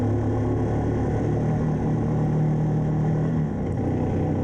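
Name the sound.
ATV engine driving onto a beach on Lake Couchiching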